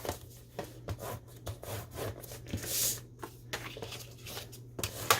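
Cardstock being scored at half-inch intervals for a KaiserCraft Christmas paper project, heard as a series of short scraping rubs spaced about every half second, close and quiet, over a steady low hum with no talking.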